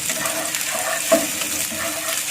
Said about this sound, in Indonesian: Kita masukkan bawang merahnya dan cabai. Kita aduk.